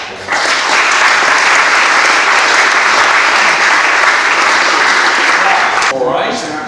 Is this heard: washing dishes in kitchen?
no